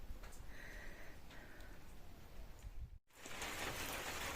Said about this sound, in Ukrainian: Такий пішов хороший дощик у нас.